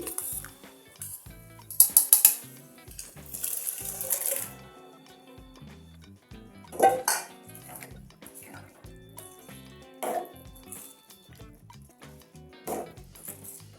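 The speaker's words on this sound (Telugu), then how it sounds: "ఇప్పుడు శనగపప్పుని వేసుకుందామండి" Dry chana dal tipped into a cooking pan for a Telugu-style lentil curry, heard as a few short bursts of rattling, clattering grains with quieter scraping and handling sounds between them.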